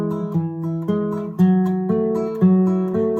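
Fingerpicked guitar played with thumb and middle finger, alternating bass notes on the 4th and 3rd strings with the open 1st string; a slow, close, clean pattern of plucked notes ringing into each other.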